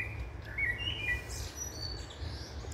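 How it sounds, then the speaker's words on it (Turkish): Birds chirp with a few short, bright tweets outdoors in nature. The calls are faint over a low background rumble. "Kuşların ötüşü."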